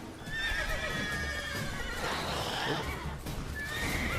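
Horse in The Witcher 3 whinnying and clip-clopping, a sharp neigh over steady hoofbeats amid game ambience, with a brief exclamation from a person.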